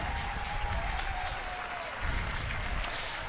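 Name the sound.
crowd applauding and cheering at ultimate frisbee championship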